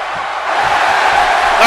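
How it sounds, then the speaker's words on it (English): A wrestling video game crowd roars and cheers steadily, a loud, dense wall of noise with a brief swell near the end. "The crowd solidly behind."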